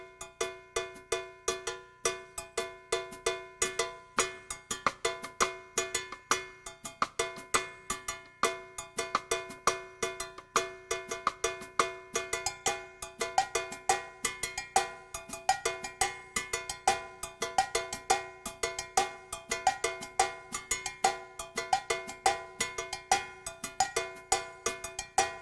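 A cowbell struck in steady quarter notes, loud and close, keeping an even four-beat pulse throughout with a sustained groove underneath.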